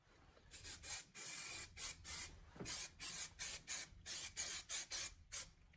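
Aerosol spray coating is applied to Honda K series port moulds in a rapid series of short hissing bursts, each about a third of a second long, close and fairly quiet with no talking.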